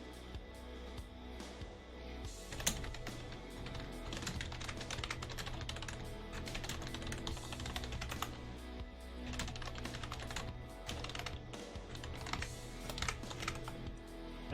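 Typing on a computer keyboard while coding: steady, rapid key clacks and taps close up, running continuously with no pauses for the whole stretch.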